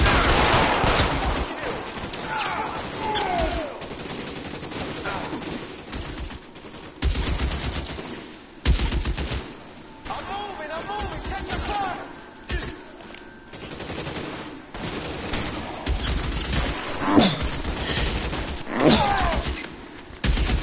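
Gunfire in a shootout in the video game LA Noire: bursts of rapid shots and single cracks scattered through a long stretch, mixed with shouting voices and game background sound.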